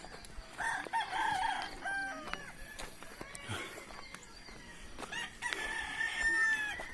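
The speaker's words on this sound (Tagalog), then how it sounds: "Dami mga manok dito." Roosters crow repeatedly in a mountain village along the Mount Oro trail in Montalban, Rizal at six in the morning, the calls moderately distant and overlapping with clucking chickens and faint outdoor ambience.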